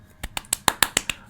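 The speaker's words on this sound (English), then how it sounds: "they instantly heard clapping" Clapping sound effect in an audiobook: six sharp, evenly spaced claps in quick succession, close and crisp, heard alone without voices.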